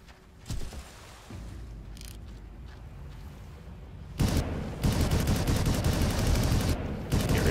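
Enemy gunner firing in the video game Far Cry, with dense sustained bursts of automatic gunfire building up loud and close in the second half after quieter ambient rumble.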